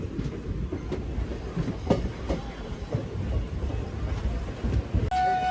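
The Kakatiya Express runs along the track out of Bibinagar, its wheels giving a steady rumbling clickety-clack with intermittent sharper knocks, close and moderately loud, ending with a brief tonal hum.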